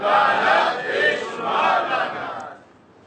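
A crowd at a Shia majlis in Sialkot shouts back the Nara-e-Haidari response in unison: two loud surging waves of many voices that then fade out.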